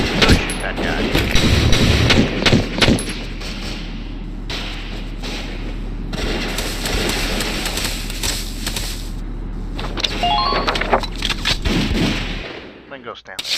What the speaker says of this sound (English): You have a gun. Go shoot that guy.